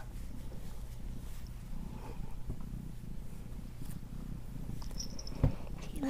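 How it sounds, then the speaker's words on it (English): A cat purring close up with a steady low rumble throughout, with a few soft handling noises and no talk over it. "Oh, you're gonna purr."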